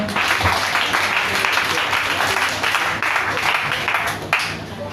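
A church congregation breaks into sustained applause, a dense wash of many hands clapping at once that stays steady and loud, with a few voices mixed in.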